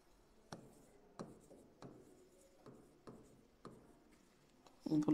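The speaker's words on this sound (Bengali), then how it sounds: "ভুল লিখলাম তো।" Pen or marker strokes on paper during a lecture, a soft scratching rhythm with small taps roughly every half second, close and quiet, ending in a brief louder rustle.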